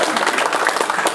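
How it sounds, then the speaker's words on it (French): Audience applause at a 59 Arena battle event, a dense steady wash of clapping held at even loudness throughout the short burst. "Donc ça s'applaudit déjà."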